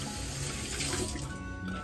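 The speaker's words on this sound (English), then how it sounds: "I'm just going to pour a little bit in there." Wine poured into a Bundt pan with a rotisserie chicken, a steady splashing liquid pour that runs continuously for about two seconds, close and fairly loud with no talk.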